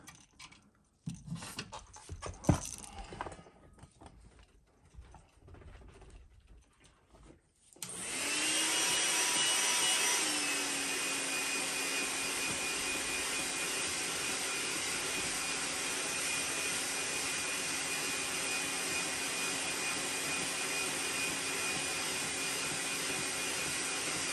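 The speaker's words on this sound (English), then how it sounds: "I'm gonna heat set that really fast." A heat gun blows to set fresh paint on a custom 130 jerkbait lure, switching on after a few seconds of quieter handling noise and then holding a loud, steady whooshing roar with a thin whine to the end.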